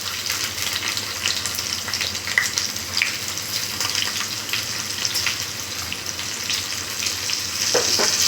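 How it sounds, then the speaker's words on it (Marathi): Green chilies dropped into hot oil left from roasting peanuts, frying with a constant close bubbling sizzle, with faint scrapes of stirring. "तर या तेलामध्ये मी मिरच्या घालते"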